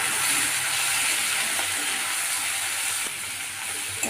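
Spiced masala of salt, turmeric, chili powder and garam masala sautéing in a pan for a loitta (Bombay duck) fish dish, giving a steady, loud, close hiss with a few faint knocks.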